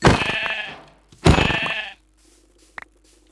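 Two loud sheep bleats close by, one after another, followed by quiet farmyard background with a faint click.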